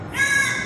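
A crow gives one loud, hoarse caw, close and on its own with no talk, a call that people at a celebration hear as "ram ram".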